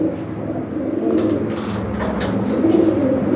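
Pigeons coo in low, throaty, repeated calls, a steady overlapping murmur throughout with no talking.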